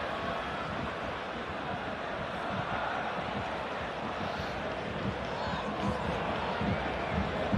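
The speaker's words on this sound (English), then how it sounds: "you can hear the cheer that Abada's got as he's coming on" Celtic supporters roar as Abada comes onto the pitch during a Celtic vs Rangers derby, a dense, steady stadium crowd noise that swells slightly and holds loud for the whole stretch.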